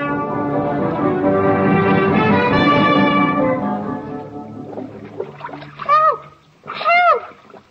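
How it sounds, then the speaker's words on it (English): Splashing water effect in a radio comedy scene of a ship wrecked on a rock with a family struggling in the water: sustained loud splashing and churning for about four seconds, then quieter, followed by voices. "the ship hits a rock and we find the Robinson family struggling in the water"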